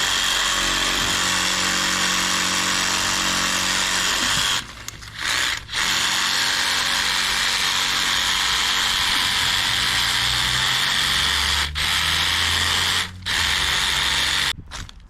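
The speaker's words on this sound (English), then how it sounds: "use my sawzall to basically cut the trees down at the base" A reciprocating saw (Sawzall) cuts low tree branches outdoors, giving a loud, steady buzzing drone that runs almost continuously, broken by a few short pauses between cuts.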